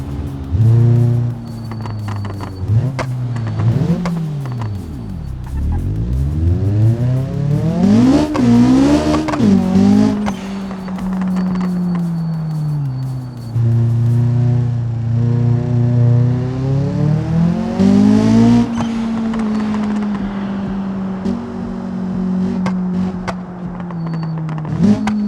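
A car engine in the BeamNG driving game revs and accelerates steadily through gears, pitch rising and dropping with shifts, loud and continuous with no talking.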